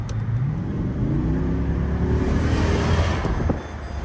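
A Jeep SRT accelerates hard on the road, its engine roaring loud and close with rising pitch as it pulls through the gears, steady throughout with a brief dip near the end.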